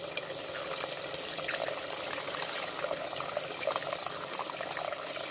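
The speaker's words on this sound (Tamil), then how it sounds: "இந்த டைமில் நம்ம கரைச்சி வச்சுருந்த புளி தண்ணியை சேர்த்துடலாம்." Tamarind water pouring into a simmering fish curry with mashed tomatoes, a steady splashing liquid sound running throughout, with no talk.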